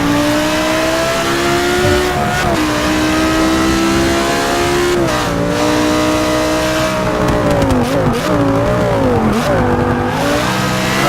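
Race cars including an Audi accelerate hard in a pro-am race, engines revving loud and continuous with rising and falling pitch sweeps as cars pass, one car slithering sideways onto the grass.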